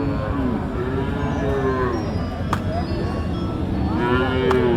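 A cow moos loudly and long at a border-area cattle market, two or three drawn-out calls close by, over a constant crowded background murmur.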